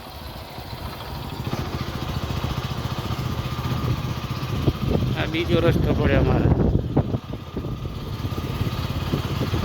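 A motorcycle engine drones steadily throughout on a sandy rural road, with wind buffeting the microphone, while someone speaks briefly over the ride.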